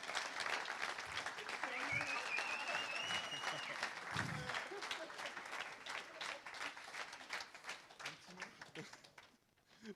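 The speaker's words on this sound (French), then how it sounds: "on peut l'applaudir très très fort" An audience applauds an award winner at a web-agency awards ceremony, fairly quiet, scattered clapping with a few cheers and voices mixed in, thinning and fading toward the end.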